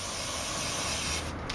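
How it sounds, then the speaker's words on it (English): Brake cleaner sprayed onto the rear brake rotor of a 2005 Mazda 3, a steady close aerosol hiss running continuously for over a second before tapering off. "so I just spray some brake cleaner to get all"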